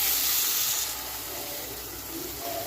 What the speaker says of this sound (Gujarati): સેવની જરૂરિયાત મુજબ પાણી નાખવાનું